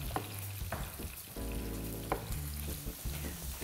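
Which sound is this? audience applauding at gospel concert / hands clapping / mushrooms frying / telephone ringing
mushrooms frying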